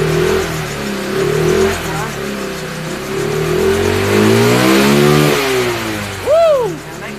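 A swapped-in 150cc engine from a 2022 Kymco 150R, fitted to a 2010 Kymco Like 125i scooter, revs loudly up and down in rising and falling sweeps close by, with a voice shouting briefly near the end.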